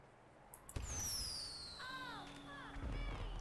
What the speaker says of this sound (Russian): Салют. В твою честь такой.